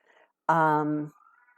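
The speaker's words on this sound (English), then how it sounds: "I'm hearing a cat" A single clear cat meow, drawn out and tonal for about half a second, close and alone against near silence.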